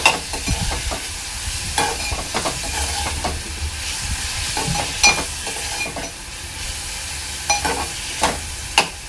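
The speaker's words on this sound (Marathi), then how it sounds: "तर टोमॅटो आहे ना आपल्याला तेलावर चांगलं परतून घ्यायचं आहे।" Tomato sautéed in hot oil for a dry fish tamarind curry, with a continuous frying sizzle broken by repeated scraping and clacking of the stirring spoon against the pan, close and fairly loud.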